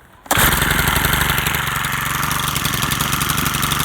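A Stihl FS100RX 4-mix engine string trimmer catches after a brief quiet moment and settles into a steady, loud, close idle with a rapid mechanical patter.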